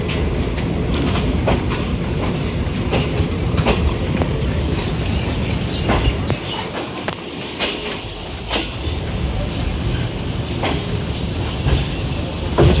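The Pakistan Express rolls past on the Green Line route with a loud, continuous rumble, steady rail roar and repeated rhythmic clacks of wheels over track joints, dense and close throughout.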